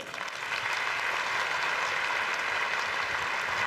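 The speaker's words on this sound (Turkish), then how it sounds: "Büyük bir alkışla Mustafa Altın" Audience applause for the winner of a Quran recitation competition at a final ceremony, a steady, moderately loud wash of many hands clapping that swells slightly after the start and holds evenly.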